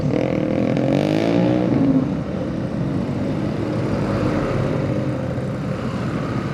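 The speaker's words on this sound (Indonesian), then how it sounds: "Bangga gitu ya kalau geber-geber motor apa, knalpot brong kayak gitu." Motorcycle with a loud aftermarket open exhaust revving hard, a rising roar in the first two seconds that settles into a steady, throaty idle rumble.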